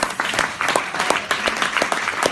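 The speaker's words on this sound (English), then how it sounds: "Let's give him a big round of applause, my friend at the back." An audience at a London speaking event applauds, a dense, steady wash of clapping from many hands, fairly close, sustained throughout with no talk.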